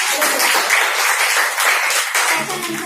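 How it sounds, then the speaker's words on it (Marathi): Audience applause at a business presentation: steady, dense clapping from a crowd, loud and sustained for about three seconds before easing slightly at the end. "तर जोरदार टाळ्या झाला पाहिजे।"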